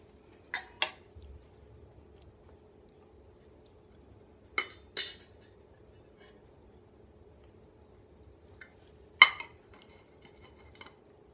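A knife cuts through a St. Patrick's Day shamrock cake, making three light metallic clinks against the plate, spread several seconds apart in a quiet room.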